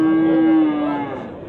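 A milk cow at the Khalmion livestock bazaar lets out a single long, loud moo up close, holding a steady low tone before it slowly fades.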